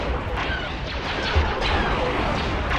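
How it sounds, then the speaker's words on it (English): A loud explosion from the space battle strategy game Star Wars Empire at War, a dense rumbling roar of blasts and booms that fills the clip with a sharper burst midway. "that explosion!"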